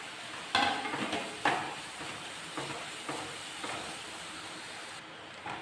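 Masala with finely grated carrot sizzles in a pan for a teatime snack, while a spoon scrapes and stirs it in several sharp, close strokes at irregular intervals.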